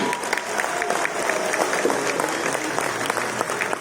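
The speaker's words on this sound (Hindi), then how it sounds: "चकाचक ताली बजाकर सम्मान कीजिए राम जी का" An audience at a Ram Katha religious discourse claps in honour of Ram, a steady burst of crowd applause with a few louder claps standing out.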